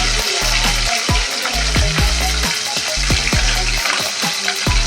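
Curry leaves and green chillies frying in hot oil for an egg gravy, a loud, close, continuous sizzle broken by regular scraping stir strokes across the pan.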